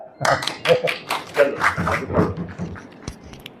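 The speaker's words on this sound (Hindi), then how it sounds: "ताली बजा दो भैया" A small group at a mayor's public hearing claps on request, a short burst of distinct hand claps in quick succession, close and uneven, tapering off after a few seconds with voices mixed in.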